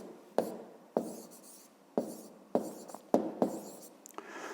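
A pen writes a fifth-grade math solution by hand on paper, with close, distinct strokes and scratches in an uneven rhythm of about seven bursts and no talk.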